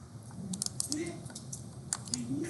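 Typing on a computer keyboard, a close run of quick, irregular key clicks and taps with a faint voice murmuring underneath.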